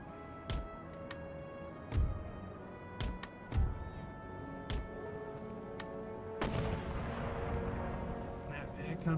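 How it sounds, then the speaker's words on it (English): Enemy artillery firing during an Empire Total War battle: several heavy booms land at irregular intervals, some close and loud, over a steady bed of battlefield noise that swells toward the end. "So we should expect to be engaged by a comprehensive amount of enemy artillery."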